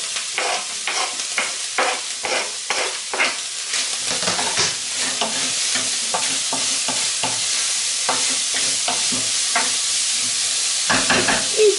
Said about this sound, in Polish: Do częściowo stopionego boczku dodaję pokrojoną cebulę i podsmażam.